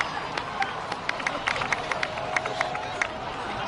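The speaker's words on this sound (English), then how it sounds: "So, please give another round of applause." Crowd applause and cheering in Genshin Impact, Night Kingdom setting: a distant, fairly soft wash of clapping with sharper individual claps popping out over a murmuring crowd.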